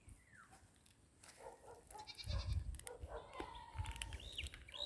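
A hungry goat grazing outdoors bleats faintly in the middle of soft rustling and ambient farm noise, with a second quieter bleat toward the end.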